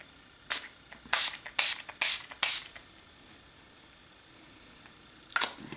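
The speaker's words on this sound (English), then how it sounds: "now I'm going to set it all with my Urban Decay All Nighter Makeup" Five short bursts of makeup setting spray in quick succession, then a pause and one final spritz, close and crisp with no talking.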